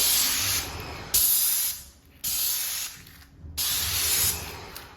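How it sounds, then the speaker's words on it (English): Three bursts of hissing compressed air from a spray gun, each lasting about a second, separated by short pauses, close and loud. "So I'm going to spray and like that and blow the dust down"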